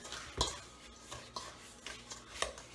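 A spoon works through butterscotch chip cookie dough in a bowl, giving soft, quiet scrapes and a few light clinks against the bowl in an uneven rhythm, with no talking.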